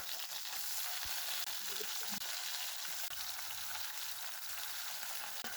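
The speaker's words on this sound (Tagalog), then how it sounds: "dapat pala frinay ko muna yung talong, no?" Eggplant sizzles in a hot pan with a steady broadband hiss and a few faint clinks and stirs, heard alone without talk.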